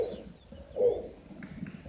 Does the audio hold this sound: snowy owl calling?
yes